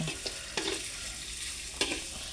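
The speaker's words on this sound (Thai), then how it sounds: "ทอดปลาหมึกค่ะ" Squid fries in hot oil with a soft, steady sizzle, broken by a few sharp scraping stirs of a utensil in the pan.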